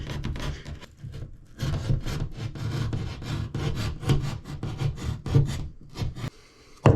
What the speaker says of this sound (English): I'll make a slight cut like this, just to kind of take that top layer of paint off.